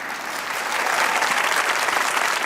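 A studio audience at a comedy talk show bursts into loud, sustained applause, a thick continuous clapping that swells slightly and holds steady.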